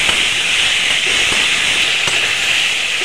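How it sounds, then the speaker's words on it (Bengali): Potatoes sizzling steadily in hot oil as they are sautéed in a spice paste, a loud, even hiss close by with no talking. "আলুটা দিয়ে ভালো করে কষিয়ে নেব।"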